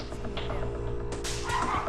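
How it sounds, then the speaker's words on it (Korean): A dog barks and yips in short, sharp bursts indoors, fairly close but modest in level over a low background hum, ending with a whimpering note. "루비가 짖자 또다시 무섭게 돌진합니다"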